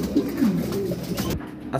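Pigeons at a bird market give low, soft cooing calls, a few short murmuring coos close by over a muffled background hum.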